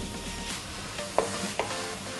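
Cabbage stir-fried with oyster sauce in a pan, with a soft continuous sizzle, a couple of sharp clinks from a utensil and light stirring scrapes.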